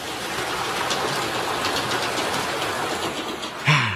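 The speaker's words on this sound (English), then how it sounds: "The train. Now that was the way to travel." Cartoon train running along the rails, a steady rumbling clatter with rhythmic clicks holding at an even level for several seconds before a short louder burst near the end.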